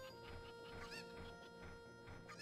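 Chickens clucking in the Zelda Ocarina of Time video game, a faint run of short, busy clucks layered over a steady game background tone, with no voices.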